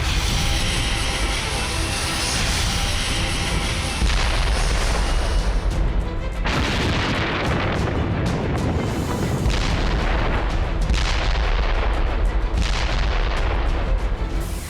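Missile attack explosions rumble and boom in a dense, continuous barrage of loud blasts, with deep low thuds and crackling bursts layered throughout.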